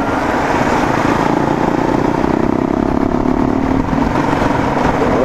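A modified KTM Duke 390 with an SC Project exhaust riding in fourth gear, its engine a loud, steady, raspy drone throughout, close to the listener.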